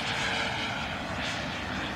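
Engine sound from an ESS-AIR V2.0 sound unit in a 1500mm RC P-47 Razorback model plane coming in to land on a field, a steady droning aircraft-engine roar that rises and falls slightly.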